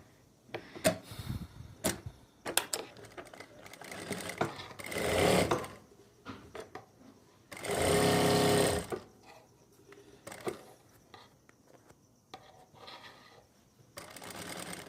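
A sewing machine stitches the pocket fabric of palazzo pants, with two sustained runs of motor whirring between clicks, fabric handling and knocks, all fairly close and with no talking.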